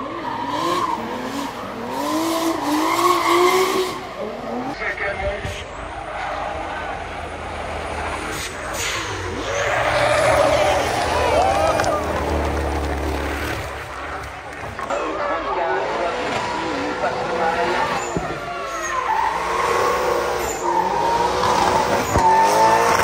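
Drift cars at a French drift championship scream through long tire squeals and revving engines, loud and sustained, with crowd noise and voices mixed in throughout.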